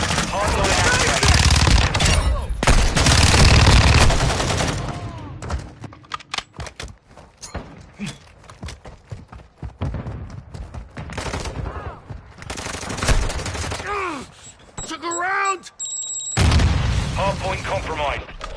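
Loud, dense video game combat audio: a grenade explosion mixed with rapid machine-gun bursts and scattered gunshots at a hardpoint, with radio-style voice announcements breaking in and a brief lull midway before the firing resumes.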